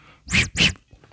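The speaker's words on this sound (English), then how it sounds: "that will make a noise like wind escaping" Breath escapes from a hole in a Yamaha BC-1 breath controller as two quick, close, airy hisses in a row, each a short burst of rushing wind followed by quiet.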